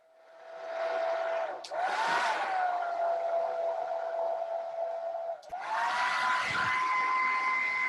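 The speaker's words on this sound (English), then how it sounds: "So I'm just gonna reach for my hair dryer." A hair dryer blows on wet paint with a steady whirring motor hum and airy rush, starting up, dipping briefly twice as it shifts, then running on loud and close.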